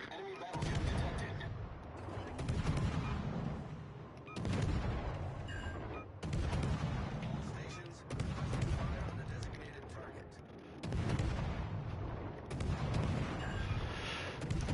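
Naval artillery fires in a World of Warships battle, heavy booming salvos repeating roughly every two seconds with rumbling tails, each one loud and close. Speech can be heard at times beneath them.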